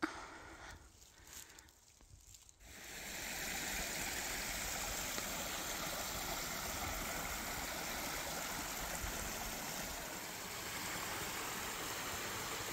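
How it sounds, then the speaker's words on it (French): Two small streams meeting along a steep rocky forest hiking trail, their water flowing in a steady, full rush that takes over after a few seconds of quieter, uneven noise and continues evenly without voices. "Une petite jonction de 2 ruisseaux."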